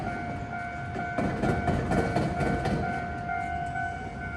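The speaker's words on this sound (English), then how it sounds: "there is a little bit of light rail in addition to the trams" A light rail train passes at close range on a Matsuyama street, with a steady tonal hum from the train, rumbling and clattering wheels, and a swell as it goes by.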